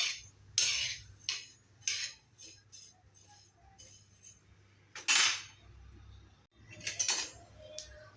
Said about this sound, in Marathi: आणि भाजताना ते असं हलवत राहायचं आहे